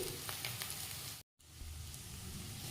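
Egg rice frying in a pan, a steady sizzle running throughout with a brief total dropout near the middle before the frying resumes.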